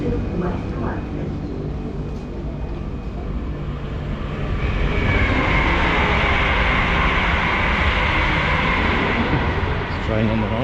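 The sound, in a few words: London Underground Central line train to West Ruislip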